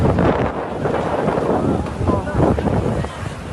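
Strong wind roars through an outdoor scene in Makkah during a violent storm with heavy rain, a continuous dense rush and buffeting on the microphone with no clear gaps.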